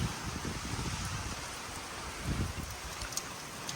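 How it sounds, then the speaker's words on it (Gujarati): A steady, dense hiss of heavy rain with lightning and thunder in Patan, Gujarat, with low rumbling thumps scattered through the downpour and no voices. "વીજળીના કડાકા ભડાકા સાથે ધોધમાર વરસાદ"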